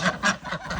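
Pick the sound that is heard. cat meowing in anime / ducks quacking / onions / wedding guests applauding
ducks quacking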